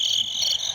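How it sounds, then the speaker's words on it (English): Crickets chirp in a steady, high-pitched trill that fills the short stretch at a fairly loud, even level, with no other sound. "I hear crickets."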